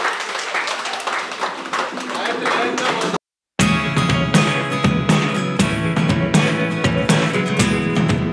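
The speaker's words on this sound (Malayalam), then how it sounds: "എല്ലാവരും നല്ല കൈകൊണ്ട് ചേച്ചി ഒന്ന് അഭിനന്ദിക്കുക" Full applause from an audience at a Thoompunkal family gathering, many hands clapping warmly for a woman for about three seconds, then a brief silence before music takes over.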